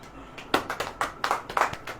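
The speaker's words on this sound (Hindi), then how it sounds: "ताली बजाओगे?" Hands of a church audience clap in a short, uneven burst of several sharp claps, fairly close and moderately loud, with faint voices around them.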